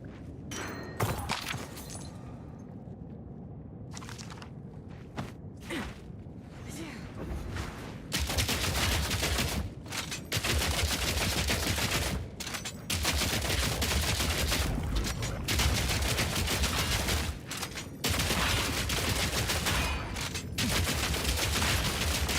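Rifle gunfire in the action RPG Path of Exile 2, with dense, rapid bursts of shots and impacts that build into a nearly continuous barrage. A few isolated shots come first.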